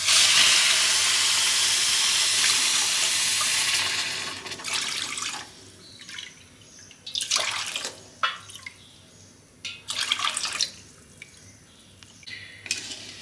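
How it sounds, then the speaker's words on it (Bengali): Water runs steadily into a measuring cup for a Bengali rasgulla recipe, a continuous close pour for about four seconds, then brief splashes and trickles in short bursts with quiet gaps between them. "মেজারিং কাপে আমি 8 কাপ জল দেবো।"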